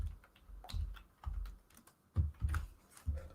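Typing on a computer keyboard: close, irregular key clicks and heavier thumps, as from the space bar or enter key, coming in uneven bursts in a quiet room.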